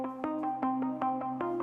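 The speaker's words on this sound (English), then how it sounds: "You can use an external delay plugin like Valhalla's delay and put a dotted 8th note." A synth patch run through the Valhalla Delay plugin set to dotted eighth notes, bright plucked tones repeating in a steady echoing pulse with sustained pitches ringing beneath.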